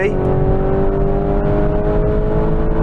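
A Lamborghini Urus in Corsa mode does a launch-control start. Its engine roars with a loud, steady hum that climbs as the SUV pulls hard, heard from inside the cabin.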